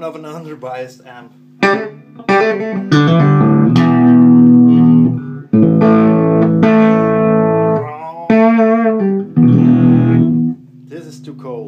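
A Fender Champ 5F1 tube guitar amp biased too cold gives out loud, slightly gritty guitar chords and single notes. They are played close in short strummed bursts with brief gaps between phrases.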